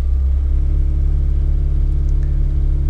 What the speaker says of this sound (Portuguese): vou acelerar um pouquinho